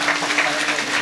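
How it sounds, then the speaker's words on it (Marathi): Listeners at a Marathi kirtan give a short burst of applause, with close, dense clapping lasting about a second. "तुम्हाला हे वाक्य न कळल्याबद्दल मनपूर्वक टाळ्या देऊन धन्यवाद देतो"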